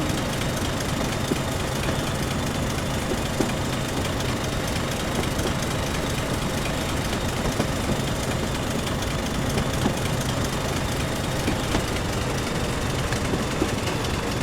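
A train engine idles in Train Simulator 2015 on the Darlington to Durham via Bishop Auckland route, a steady, loud, low mechanical drone with faint rattling that holds constant throughout, without speech.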